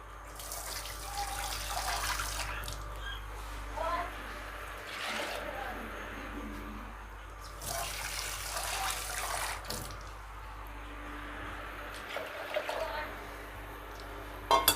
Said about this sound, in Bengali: এখন ডালটা আমি প্রেসার কুকারের মধ্যে দিয়ে দেব। দিয়ে আমি পরিমাণ মতো জল দেব।